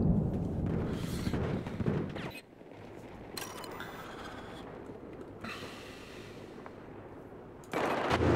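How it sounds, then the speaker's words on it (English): Battlefield 4 gunfire: bursts of rapid automatic shots and mechanical weapon clatter, loud and close at the start, then intermittent firing amid game ambience. "Panic shooting."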